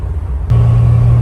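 A Jeep TJ idles through a Vibrant street power muffler, a deep, steady exhaust rumble up close that briefly rises to a firmer, even drone.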